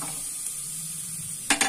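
Onions browned in a pan with ground spice paste frying and being stirred, a steady close sizzle throughout with a few louder scraping stirs near the end, no talking.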